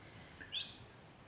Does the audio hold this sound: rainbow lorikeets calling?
yes